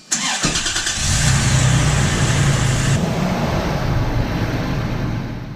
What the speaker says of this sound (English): that was start up obviously, and then reversing out of the garage, and now heading down the road